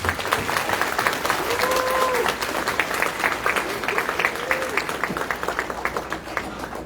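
A crowd claps for five graduates at a celebration, a thick and sustained round of applause lasting about seven seconds, with a few brief voiced cheers rising above it.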